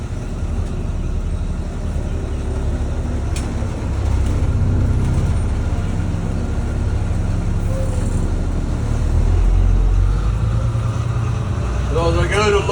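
A school bus engine idles and runs with a steady low rumble, close and loud, with road noise around it and a brief squeak near the end.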